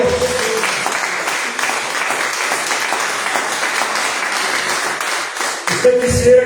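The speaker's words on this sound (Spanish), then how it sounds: "Y dele palmas al Señor, porque glorioso es Dios" A church congregation applauding during a worship service, a dense steady wash of many hands clapping together with a voice briefly audible under it near the end.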